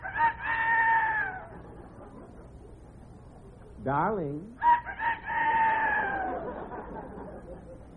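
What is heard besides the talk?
rooster crowing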